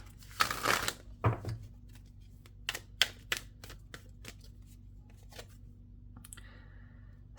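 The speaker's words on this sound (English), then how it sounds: "I'm going to shuffle that back in." Tarot cards shuffled by hand in short crisp bursts, a longer riffle near the start then scattered light clicks and snaps of card edges, close and fairly quiet with no talking.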